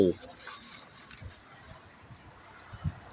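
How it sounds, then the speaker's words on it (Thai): A cloth rubs and wipes across the casing of a car amplifier being cleaned of an oily residue, giving soft, faint scratchy strokes up close with no talking. "เดี๋ยวผมเช็ดก่อนนะครับเดี๋ยวผมจะลองอีกทีหนึ่งนะครับ เช็ดทำความสะอาดก่อน"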